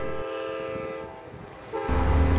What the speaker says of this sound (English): what do you think about the train coming through during school hours?